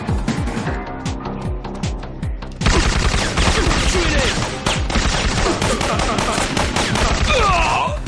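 Gunfire rings out in a shooter video game: after a quieter stretch, dense, rapid volleys of shots and bursts come close and loud, with a voice faintly under the shooting.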